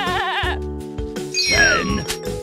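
A goat bleats in a wavering, nasal cry, followed by a few more short bleats and a faint jingle, close and clear with no talking over it.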